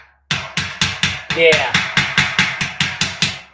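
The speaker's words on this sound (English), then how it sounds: "Guess you could probably use your hammer for this too." A hammer taps steel shelving down into its slot while a 5-shelf steel unit is assembled, giving about a dozen evenly spaced, sharp metallic knocks, close and loud. A voice speaks briefly.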